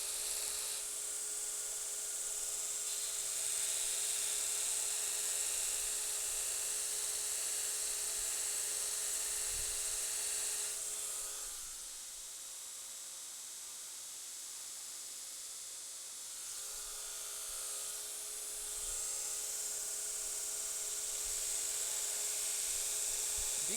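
Steady abrasive rasp of a knife blade being ground on a coarse 36-grit ceramic belt grinder, continuous and fairly loud, easing to a quieter pause midway before the grinding resumes; no talking.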